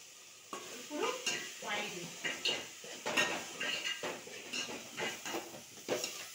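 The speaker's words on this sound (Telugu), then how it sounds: "కొంచెం వేగాలి ఇదంతా కలిపి." Masala of turmeric and coriander powder frying in oil in a pan, stirred with repeated scraping strokes in an uneven rhythm over a soft sizzle, heard up close.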